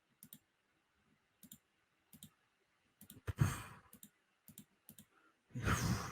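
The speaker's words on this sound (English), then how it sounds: "Oh, on the keyboard." Sparse clusters of short keyboard clicks tap out in brief bursts, with a couple of louder rustling breaths or sighs in between; the setting is quiet and no one talks.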